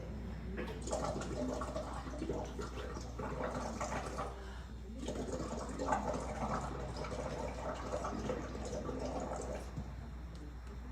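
Breath blown through a straw into a glass of water bubbles and gurgles continuously, with a short pause midway, close and fairly loud.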